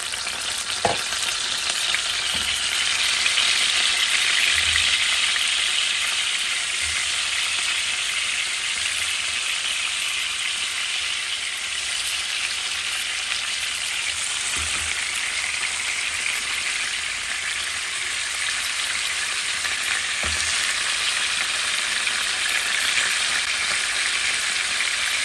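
Pieces of fish fry in hot oil, making a loud, steady, close sizzle that runs unbroken with a few faint thuds from the pan.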